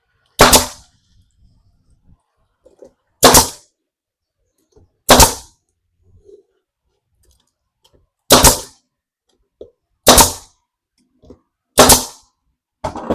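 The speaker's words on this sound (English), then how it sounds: "Shoot a couple brad nails." Brad nailer firing nails into a birdhouse built from a fence picket, six sharp separate pops spaced a couple of seconds apart, close and loud against an otherwise quiet background.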